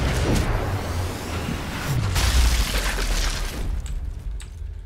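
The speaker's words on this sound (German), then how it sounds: "Achtung, Panzer explodiert" Tank exploding in the video game Sniper Elite 4 during a co-op campaign mission at a shipyard: a loud, sustained rumbling blast with debris and crackle lasting several seconds, tapering off toward the end.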